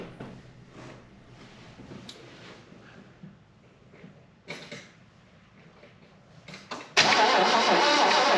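A Datsun 240Z being cranked after a fuel pump replacement, a long stretch of faint uneven starter churning with a few louder bursts before the engine catches into a loud steady roar at the end.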